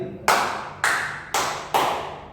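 An audience claps hands together in unison, four sharp, evenly spaced collective claps, each ringing off briefly in a room.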